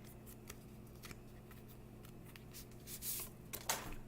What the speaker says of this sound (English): All right, one last shuffle.